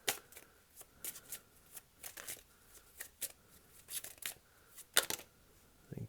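Tarot cards are shuffled and handled in soft quick riffles and flicks, close and quiet, with several short bursts and brief pauses between them.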